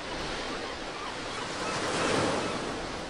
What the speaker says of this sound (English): I'm listening into this shell to see if I can hear the sea.